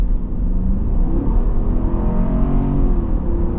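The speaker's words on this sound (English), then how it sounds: "you gotta love a naturally aspirated V8. Smooth and powerful." Naturally aspirated V8 of a 2026 Dodge Durango GT with an 8-speed gearbox pulling hard, a loud, close, deep rumble rising steadily as it accelerates, heard from inside the cabin.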